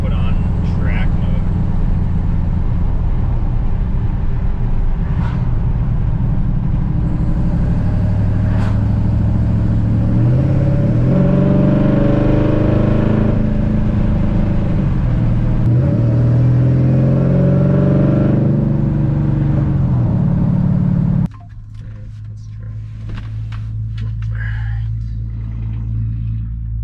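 A 426 supercharged HEMI in a Dodge Dakota revs hard in track mode, a loud, close engine roar with rising and falling sweeps for about twenty seconds before dropping to a lower, steadier idle.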